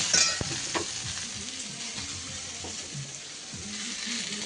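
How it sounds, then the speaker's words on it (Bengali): Mustard-chili paste sizzles and fries in a pan while being stirred, a continuous close hiss with soft scraping strokes throughout and no talk. "এটা একটু নেড়ে নিচ্ছি, ভাজা হয়ে যাক"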